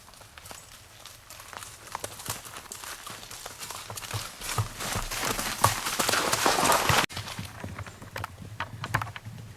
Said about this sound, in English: we've got some horses coming here, look